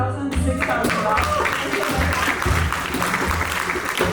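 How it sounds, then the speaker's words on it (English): Audience applause at an anniversary charity gala auction, a dense steady clatter of many hands clapping throughout, with a voice speaking over it. "Are you applauding?"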